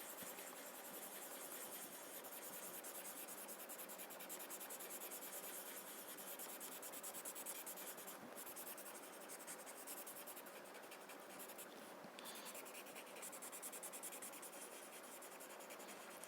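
Soft, steady rubbing of a pencil blending graphite on paper, a quiet continuous scratchy hiss with a few faint stroke accents, heard close and alone.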